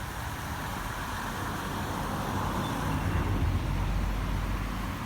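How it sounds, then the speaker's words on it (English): A car approaches down the road toward Brockenhurst Ford in the New Forest, its engine and tyre roar a steady, moderately close rumble that swells slightly midway, with outdoor ambience and no talking. "there's a car just coming down now to go through the ford"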